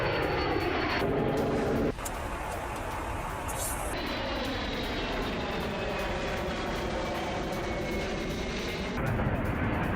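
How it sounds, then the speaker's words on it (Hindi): Belgian and French military fighter jets flying during a NATO drill: a loud, continuous engine roar with a sharp shift partway through, sustained for the whole stretch without speech. "ड्रिल में बेल्जियम और फ्रांस के फाइटर जेट हुए शामिल।"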